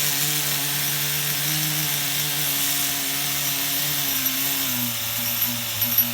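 Steady buzzing drone of an HPI RS4 nitro RC truck engine on the bench during carburetor tuning, holding a constant pitch with slight wavering, loud and close throughout with no talking.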